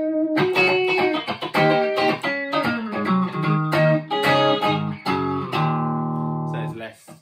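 An electric guitar through an Electro-Harmonix Soul Food overdrive pedal, set to mild drive, plays a series of picked notes and chords, ending on a sustained ringing chord; no talking.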